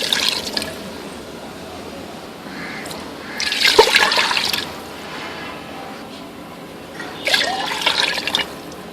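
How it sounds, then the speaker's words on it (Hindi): Water is poured into a cooking pot of browned chicken for village-style chicken pulao, with two loud, splashing pours a few seconds apart over a low background trickle and no talk. "अब इसमें पानी शामिल करेंगे चावलों के हिसाब से।"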